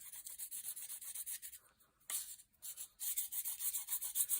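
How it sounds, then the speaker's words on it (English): A sidelock gun part with slight pitting is polished and its edges lightly deburred, giving close, faint rhythmic rubbing strokes with a couple of brief pauses. "give that a bit of a polish, slightly deburr the edges because there's a little bit of pitting there"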